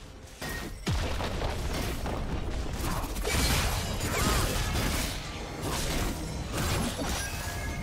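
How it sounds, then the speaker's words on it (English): Turret destruction in League of Legends: a dense, continuous crash of shattering debris and booming impacts with whooshing bursts, loud and sustained throughout with layered game effects. "Blue team's turret has been destroyed."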